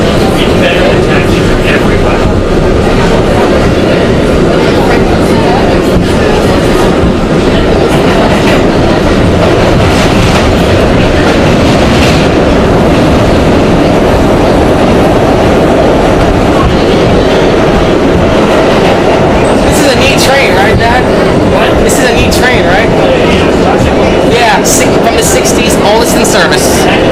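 A Budd R32 subway car rolls along New York's 8th Avenue Line on the C train, a loud continuous roar of wheels and rattling car body with rhythmic clacking and squeals, while people talk over it.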